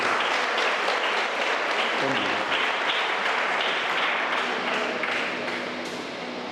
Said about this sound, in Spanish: Un aplauso para Dios, por Cristo Jesús